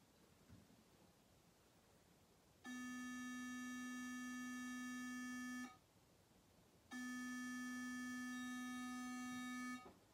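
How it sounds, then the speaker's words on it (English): A buzzy, reedy electronic tone with rich harmonics sounds twice, each lasting about three seconds, separated by a short quiet gap. "the next one is a square wave"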